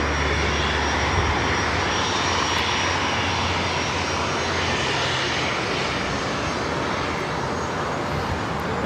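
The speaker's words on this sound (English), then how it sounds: "Just had the British Airways 777-300ER coming in from London Heathrow" A British Airways Boeing 777-300ER from London Heathrow arriving at LAX, its jet engines a loud, steady roar that fills the whole stretch with little change in level.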